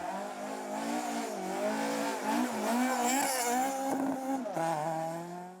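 Rally car on a gravel stage of the Sligo Stages in Ireland spinning in a pirouette, its engine revving and wavering loudly up and down with nearby scrabbling, then easing off at the end.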